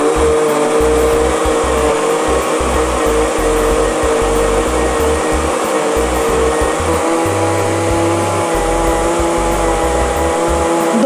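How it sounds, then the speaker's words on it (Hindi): An electric blender whirs steadily and loudly while it blends yogurt lassi mixed with salt, chili and gram flour for kadhi, a continuous close motor drone with a rough churning texture and no talk. "दो से तीन मिनट आप इसको अच्छी तरह से ब्लेंड कर लें।"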